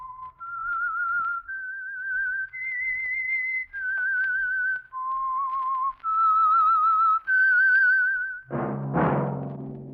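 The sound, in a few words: whistling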